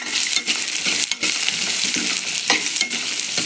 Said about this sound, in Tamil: வெங்காயத்தை போட்டு வெங்காயத்தை நல்லா வதக்கிடுவோம்